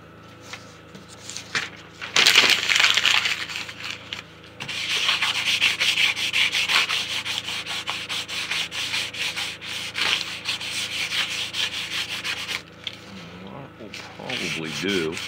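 Dense, rhythmic rubbing as excess clear coat is wiped off a wooden surface, with rapid back-and-forth strokes starting after a quiet moment and continuing loud and close before easing off near the end.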